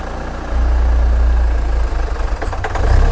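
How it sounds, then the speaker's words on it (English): A Hyundai engine running rough during an EGR valve test, a steady low idle rumble that turns uneven and lumpy as it threatens to stall, close up with no talking. "The engine is trying to stall."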